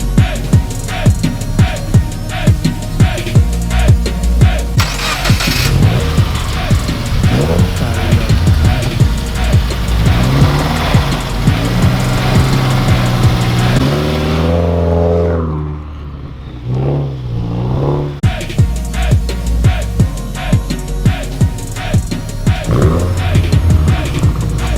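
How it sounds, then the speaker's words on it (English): A car engine runs steadily and loudly close by, revving and whirring as the car pulls up a driveway, with a brief lull in the middle before the engine noise resumes. "I'm gonna pull my car up in the driveway."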